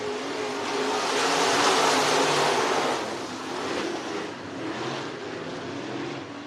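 IMCA Modified race cars roar around the Cottage Grove Speedway oval in Oregon, a broad, steady engine drone that swells and fades slightly as the pack passes, with no voices over it.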